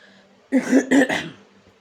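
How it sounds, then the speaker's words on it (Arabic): Two quick, harsh coughs in close succession, near and clear, against an otherwise quiet background. "كحة فظيعة،"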